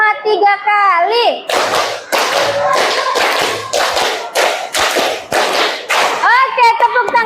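A class of children claps hands in a counted pattern, a series of eight or so sharp, loud bursts of group clapping with brief pauses, framed by a child's singing speech before and after.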